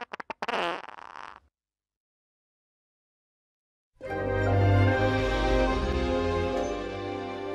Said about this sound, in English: That fart I have at 3, can you push that up to now?